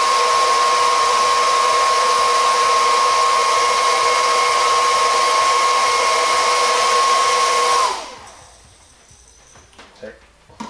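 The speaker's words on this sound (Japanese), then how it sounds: "これを今すぐこうメンテナンスして使いたいときはこうドライヤーとかで" A hair dryer blows steadily and loudly to dry a washed Shimano Calcutta Conquest baitcasting reel during an overhaul, with a constant whine, then switches off near the end, leaving faint handling clicks.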